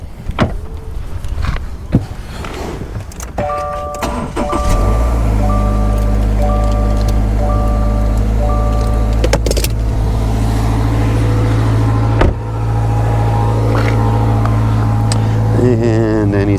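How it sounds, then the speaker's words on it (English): A 2022 Subaru Outback engine cranks over and catches, then settles into a loud, steady idle drone that runs to the end, with a few clicks and handling noises before the start. "So I'm gonna go start the car"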